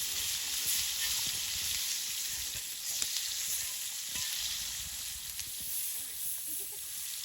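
Hash browns fry in bacon grease on a cooktop, giving a loud, continuous close sizzle and hiss with occasional stirring scrapes and pops throughout.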